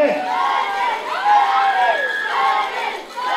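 At a norteño dance contest in Chicago, an audience cheers and whoops loudly, a dense crowd roar with rising individual shouts that keeps going throughout.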